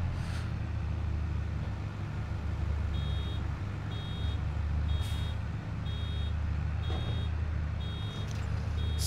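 A farm vehicle backing up in Landwirtschafts-Simulator 22, its reversing alarm beeping at an even rhythm about once a second over a steady low engine rumble, with a few faint clunks and no talking.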